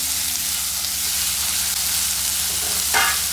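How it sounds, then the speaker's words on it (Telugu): Grated amla sizzles steadily in a hot pan, a close, even frying hiss with a brief stir or scrape near the end. "ఆమ్లా తురుము కూడా ఫ్రై చేసుకోవాలి"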